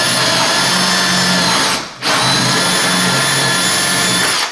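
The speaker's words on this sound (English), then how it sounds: "You want to use drill bit big enough" A power drill with a large bit bores a hole through a door for a cat door installation. The motor runs loud and close with a steady high whine, briefly cuts out and then resumes.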